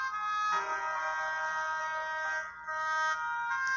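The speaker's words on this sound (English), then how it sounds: "The ambulances must have shown up in time." Ambulance sirens sound after a 911 call, heard as steady overlapping tonal wails that hold at fairly even loudness, with a brief dip midway, alone without talk.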